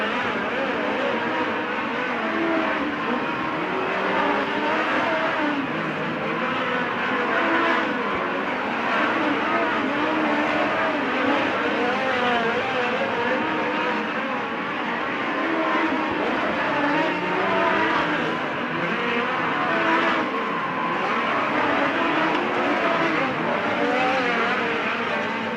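Race cars roar continuously around a dirt oval at the USAC Hangtown 100 in Placerville, engines droning and revving as cars pass, loud and steady throughout with a commentator's voice partly mixed in.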